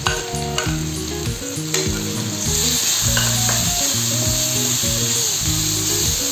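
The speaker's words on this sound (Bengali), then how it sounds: "এখন আমি মশলাগুলো দিয়ে খুব ভালো করে কষিয়ে নেব।" Spices frying in oil with jackfruit seeds, onion, garlic and sidol (fermented dried fish), a loud close sizzle with a harsh, whining rhythmic scraping of stirring running under it.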